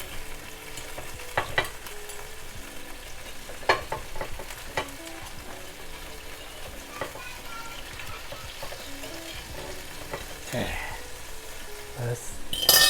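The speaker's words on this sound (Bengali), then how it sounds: "চিকেনটা আবার গরম করলাম, তেল দিলাম, আর চিকেন টিক্কাটা দিয়ে দেবো।" Reheated chicken and chicken tikka frying in oil for a sizzling mixed grill, a steady close sizzle broken by scraping utensil clicks and clanks on the pan, with a louder clatter near the end.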